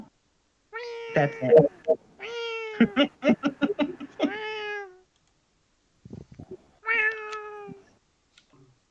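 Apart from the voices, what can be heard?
cat meowing in a video game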